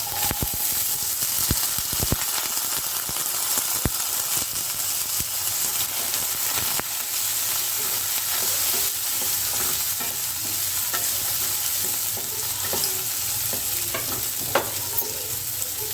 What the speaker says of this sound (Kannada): ಇವಾಗ ಒಗ್ಗರಣೆ ಆಲ್ಮೋಸ್ಟ್ ಆಗಿದೆ ಇವಾಗ ನಾನು ಬೇಯಿಸಿರೋ ಕಾಳುಗಳನ್ನು ಹಾಕಿದೆ